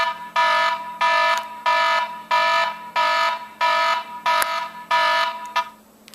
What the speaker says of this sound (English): Once the alarm goes off, which I'm sure you'll hear